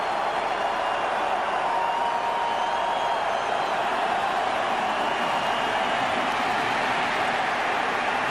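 Broad roar of a stadium crowd at a 1998 NFC Wild Card playoff game between the Cardinals and Cowboys, a dense, sustained wash of cheering noise with no distinct voices standing out.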